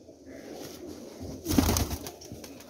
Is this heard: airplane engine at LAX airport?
no